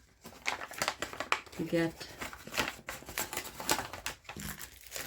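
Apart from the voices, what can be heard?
plastic baggies crinkling during unboxing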